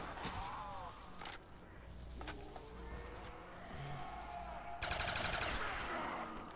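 Gunfire in Call of Duty Black Ops, sharp shots cracking in a few separate bursts with a rapid volley near the end, set against steady game background noise.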